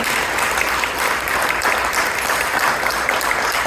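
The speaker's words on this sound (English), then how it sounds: "Would you give him a rousing applause again?" Sustained, dense applause from a dinner audience at a mayoral campaign fundraising event, loud and steady throughout with no pauses or talk.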